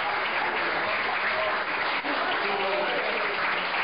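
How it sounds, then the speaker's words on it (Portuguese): A church congregation at a church inauguration service claps continuously and fairly loudly throughout, with voices mixed into the sustained applause. "Vai aplaudir o Rei dos Reis."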